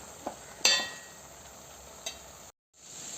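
Aviyal vegetables stirred in a pan on the stove, a soft steady scrape with a few sharp clinks of the spoon against the metal and a faint sizzle underneath, then a brief silence near the end.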